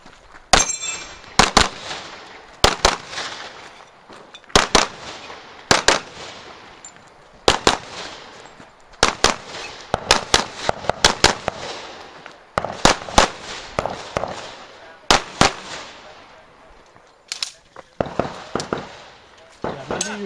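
Pistol shots crack loud and sharp through a USPSA shooting stage, coming in rapid clusters of two and three with short pauses between strings, echoing outdoors. Voices talk faintly in the background.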